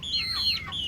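A young Bangkok chicken, about two months old, penned at home, gives a short burst of high clucking calls, faint and close, over a low background hum.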